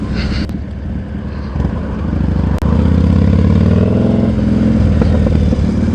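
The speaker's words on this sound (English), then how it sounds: "That car just jumped a red light." A car runs a red light at a traffic stop, its engine rising to a loud, close roar that swells midway and stays strong to the end, over steady street rumble.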